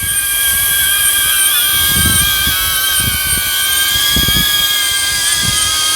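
A DJI Avata drone hovers close by, its propellers giving off a steady high-pitched whine with several wavering tonal bands over a constant buzzing hum and a few faint low thumps.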